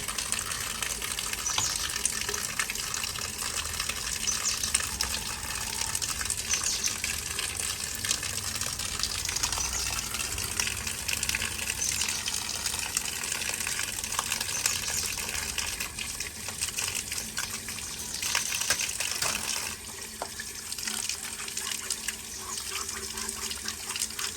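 Tap water gushes steadily and loudly during washing up at home, a continuous close splashing stream that fills the whole stretch with no talking.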